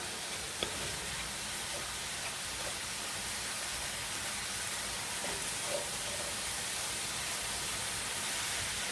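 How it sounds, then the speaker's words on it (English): Ground meat seasoned with paprika and chili powder sizzles steadily in a pan for taco filling, a constant broadband hiss of moisture cooking off with a few faint clicks, no talking. "Break up all this meat. Cook out some of this moisture before I put my veggies in."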